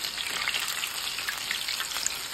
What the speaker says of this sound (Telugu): హైలోనే పెట్టి ఫ్రై చేసుకోండి